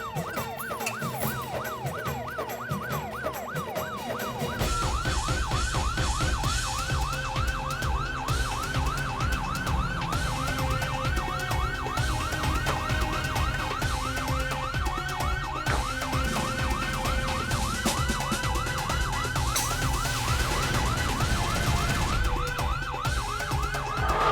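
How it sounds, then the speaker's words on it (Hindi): A wailing police car siren cycles steadily up and down, loud and continuous, starting after a few seconds of quieter background and carrying on to the end. "पुलिस का सायरन सुन के"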